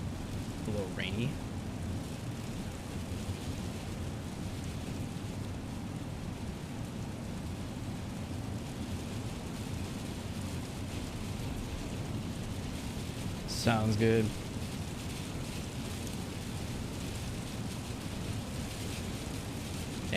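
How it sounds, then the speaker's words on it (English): Steady rain falls outside, a continuous even hiss with no clear thunder, while people talk briefly over it. "A little rainy."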